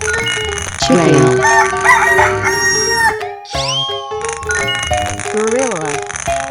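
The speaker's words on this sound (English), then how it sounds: "Chicken." A rooster crows loudly in a 3D animal video game, a long cock-a-doodle-doo ringing over bright game music and chiming effects.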